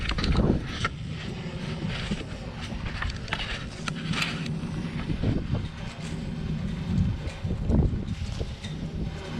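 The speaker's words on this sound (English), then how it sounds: "Really windy." Strong wind gusts buffet the microphone outdoors in Cannelton, Indiana, a steady loud roar with rumbling low-end bursts throughout and no voices.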